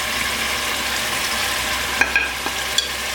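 Chopped tomatoes and chillies going into a hot pot for chicken pilau, giving a dense steady sizzle with a few sharp stirring clinks and scrapes near the end, close and alone.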